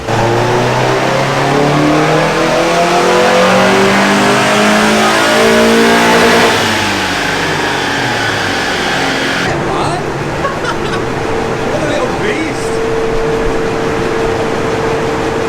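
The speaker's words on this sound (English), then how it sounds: "So they're gonna do 3 runs on the dyno and get an average of what it is" A Mazda MX5 engine revs hard on a dyno run, loud rising harmonics climbing through the gears for several seconds before dropping back to a steady lower drone, with a faint voice near the end.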